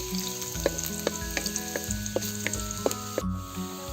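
Ginger and garlic sizzle in a frying pan as the first step of a kadyos, kamansi and pork pata dish: a close, steady frying crackle with a few sharp stirring clicks and taps spread through it.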